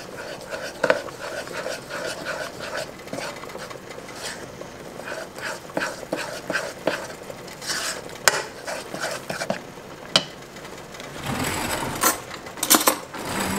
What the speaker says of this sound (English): And just stir that up.